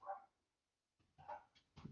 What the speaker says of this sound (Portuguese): Ó a cachorrada latindo.